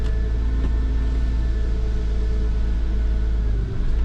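A flood-damaged Porsche Boxster idles with a steady, close, low engine rumble, holding an even note throughout, with a slight dip near the end as the gears are tried.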